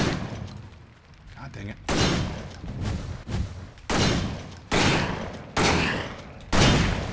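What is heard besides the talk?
shotgun firing in the video game Victor Vran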